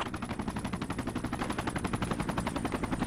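Sustained automatic machine-gun fire in the military shooter Project Reality, a fast, even burst of rapid shots running for about three seconds, loud and close.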